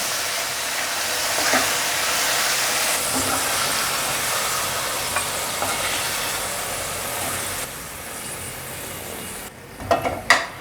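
Steady, loud sizzling hiss of shiitake mushrooms stir-fried with mushroom water in a wok, broad and continuous for most of the clip, fading near the end into a few clattering knocks.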